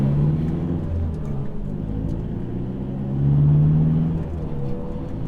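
An Audi TT and a BMW launch in a race, engines rumbling loudly and revving as they accelerate together, with a steady low roar that swells near the middle.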